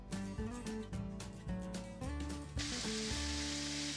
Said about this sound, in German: Dazu kamen nun unsere Zwiebel und der Knoblauch. Das Ganze darf nun etwas schmoren und glasig werden